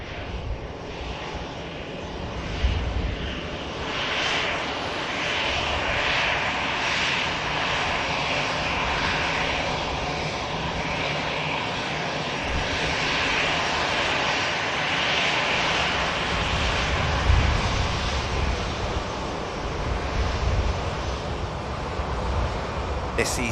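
An EasyJet Airbus A319 departs Manchester Airport, its jet engines giving a broad, sustained roar at moderate distance that swells slightly and stays steady throughout.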